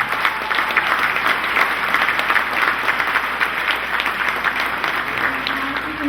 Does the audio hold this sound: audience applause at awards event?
yes